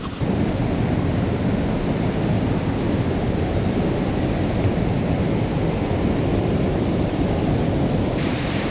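Waterfall pouring into a rocky canyon, a steady, dense roar of rushing water that stays loud and even from start to finish, with no voices over it.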